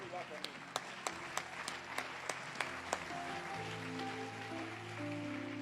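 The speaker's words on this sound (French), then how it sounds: "J'aimerais qu'on acclame Dieu pour ma maman." A church congregation breaking into applause, a steady crowd clapping with a run of sharper, evenly spaced claps standing out, fairly quiet and mixed with low organ or keyboard tones that swell in the second half.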